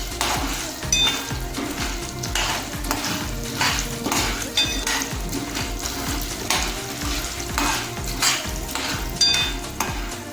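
Corn kernels with salt and turmeric being stirred in a pot for popcorn, a soft continuous sizzle with a few faint clinks of the spoon against the pot, recurring at intervals.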